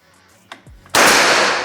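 A single sharp, loud shot from a Hercules 5000 PSI air rifle bursts out after a quiet lead-in with faint handling noises, its blast trailing off into a long hissing decay.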